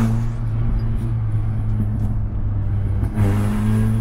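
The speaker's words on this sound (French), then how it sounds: "En fait là elle fait un bruit de tracteur parce qu'il m'a laissé la chicane." A Peugeot 106 with the exhaust baffle still fitted runs with a steady, low, tractor-like rumble close by, holding even throughout with a slight surge near the end and no voices.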